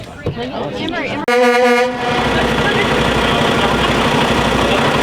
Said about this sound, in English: Don't honk the horn.